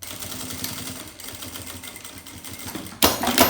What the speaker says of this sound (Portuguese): E a gente vem costurando ele até o final.